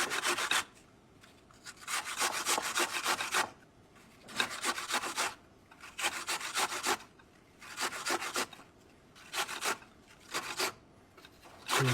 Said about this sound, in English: Grate all the way down to the core.